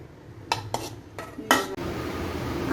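Chicken mandi being moved from a pot into another dish, four sharp metal clinks and scrapes of a serving spoon against the pot in quick succession, close by, then a low rustling background with no talk.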